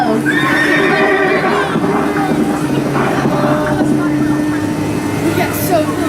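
A horse whinnies loudly over steady rumbling at the start of a ride, with busy background sound and voices throughout.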